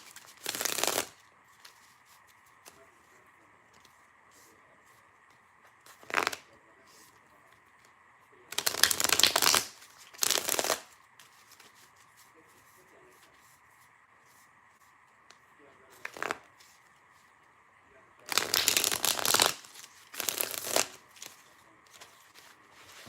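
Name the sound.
shuffling tarot cards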